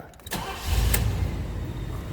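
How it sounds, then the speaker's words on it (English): A 1986 Buick Regal coupe cranks briefly and fires up, its engine catching after a quick starter whir and settling into a steady, fairly loud idle close by. "I'm gonna go ahead and start this up a second."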